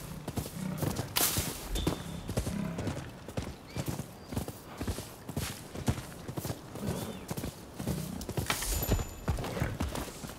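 Horse hooves clip-clop in a steady rhythm in the video game Rise of the Ronin, with a neigh or whinny in the mix and the galloping beat holding up front throughout.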